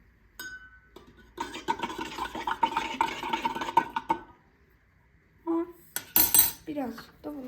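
A utensil stirring ingredients in a dish makes a run of soft scraping and light clinking for a few seconds, followed after a pause by a couple of sharper clinks.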